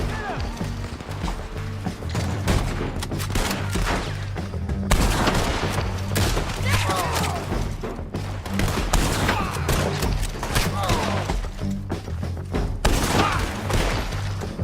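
Repeated gunfire fills a Red Dead Redemption 2 shootout, steady volleys and booms running nearly throughout, with shouted voices talking over the shots.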